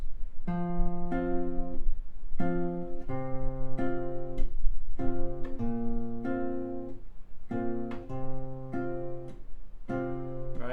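Fingerpicked acoustic-style guitar repeats a steady rhythmic pattern from a song in short bursts, the low bass note on the sixth string shifting with each repetition, close and clear.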